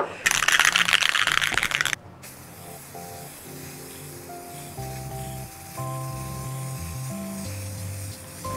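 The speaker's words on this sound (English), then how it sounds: "I've bought this pink neon spray paint" A loud can of pink neon spray paint hisses for about two seconds and then stops, followed by quieter, faint tonal sounds.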